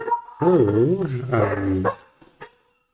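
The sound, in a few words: dog barking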